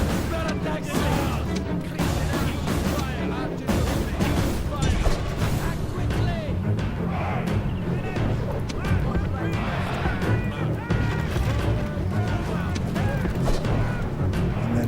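A Rome Total War battle fought on very hard difficulty, with an army firing flaming missiles amid dense crashing impacts, booms and a busy clatter of combat, alongside a murmur of distant voices.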